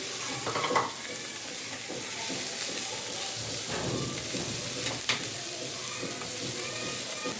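Finely chopped capsicum sizzles in a pan with a steady, loud hiss throughout, a few soft stirring scrapes and clinks breaking through.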